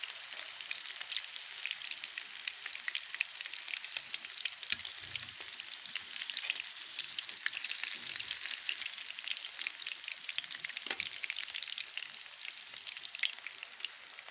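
Chicken wings fry in a pan over low heat, giving a faint, even sizzle with soft crackles and pops throughout and no talking.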